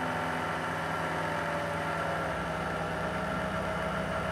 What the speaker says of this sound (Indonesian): suara yang sangat berisik tadi berasal dari power supply Korea ini